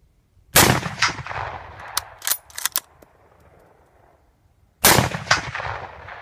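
Two loud shots from a Mosin Nagant M44 carbine rifle fired at a steel plate, each a sharp blast followed by a booming echo, spaced about four seconds apart, with clatter in between.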